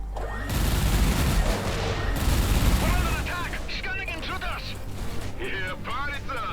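Weapons firing in the space combat video game Everspace 2, a dense roaring barrage of blasts and booms that gives way to rapid shots, with people talking over it.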